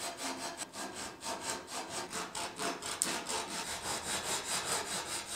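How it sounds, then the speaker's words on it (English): Sandpaper rubbing back and forth across the corners of a small, soft pine tenon, a steady rhythmic scratching of repeated strokes, close and fairly quiet, with no talk. "the reason that I chose to use sandpaper instead of a chisel is because this pine is incredibly soft"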